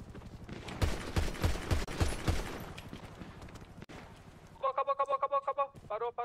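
Bursts of rapid gunfire in a roleplay video game crack in clusters over the first few seconds, followed by quieter rhythmic mechanical clatter, with faint talk underneath.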